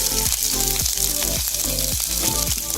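Ginger and green chilli frying for chop suey, a dense continuous hiss of hot oil with a regular rhythmic sweep of stirring over a low steady hum, close and loud, no talking.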